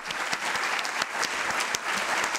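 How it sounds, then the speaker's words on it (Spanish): An audience at the close of a lecture applauds, a dense sustained burst of many hands clapping, fairly distant in a hall, with no voices over it. "yo pues pido un aplauso cerrado"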